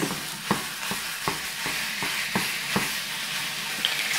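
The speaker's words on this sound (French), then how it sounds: "j'introduis l'ail haché et on introduit la viande hachée et les épices" Minced meat, chopped garlic and spices fry in a pan with a constant close sizzle. Regular stirring scrapes come about every half second, and no one speaks.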